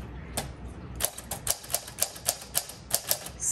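A 1946 Smith Corona Sterling manual typewriter is typed on, giving a run of about a dozen sharp, close key strikes at an uneven pace, with a brief slide-like sound near the end.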